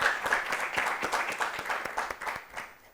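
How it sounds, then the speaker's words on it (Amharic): Audience in a studio classroom-style children's quiz program claps and applauds steadily throughout, a dense continuous patter of many hands that fades slightly at the end. "አጨብጭቡላችሁ በደንብ አድርጋችሁ።"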